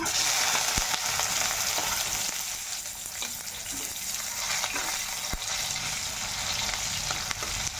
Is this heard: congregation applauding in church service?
no